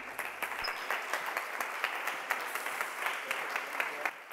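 An audience applauds steadily at a conference session, a dense patter of claps heard alone at moderate-to-faint level.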